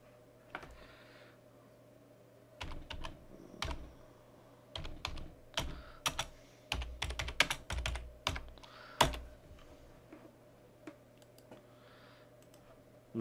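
Typing on a computer keyboard, steady bursts of quick clicking keystrokes close to the mic over a faint hum, with brief pauses between runs.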